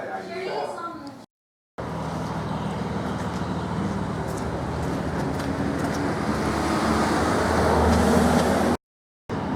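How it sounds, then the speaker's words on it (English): Steady road traffic rumbles past near railway tracks and a station, heard from a parked convertible as a continuous, fairly loud wash that swells slightly toward the end. "Sitting in here watching the traffic."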